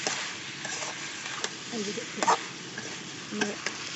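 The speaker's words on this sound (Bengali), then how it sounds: "দেখে দেবো এটা একটু নাড়াচাড়া দেবো" Chicken and potato curry being stirred in a pan with a spoon, soft scraping strokes and light sizzling, several short louder scrapes near the middle and end, close and moderate.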